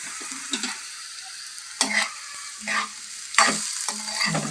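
Amaranth stems fry in oil under a steady sizzle, with several loud bursts of spatula scraping and tossing that come at uneven intervals, close and clear.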